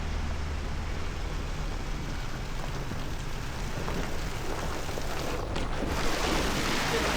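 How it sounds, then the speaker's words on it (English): A small waterfall beside a road, a steady, dense rush of falling water, loud and close with no break across the whole stretch. "A little waterfall."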